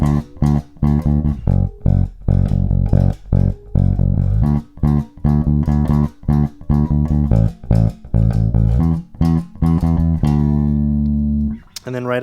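A bass guitar plays the second half of an outro riff for a song, with punchy, detached low notes in a steady rhythmic pattern broken by short gaps, loud and close, ending on a sustained note.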